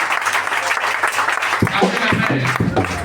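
A church congregation at a French-language prayer service applauding, a dense wash of clapping that continues while a voice sings or calls out over it, loud and near.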